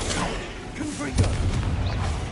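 A Confringo blasting curse goes off in a Harry Potter video game as one muffled boom midway through, set against a busy backdrop of game effects and voice-like sounds.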